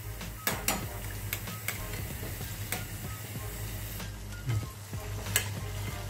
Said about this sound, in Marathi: बदामी रंगावरती आपण तळून घेणार.